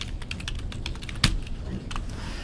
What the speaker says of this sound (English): Let's just start typing owner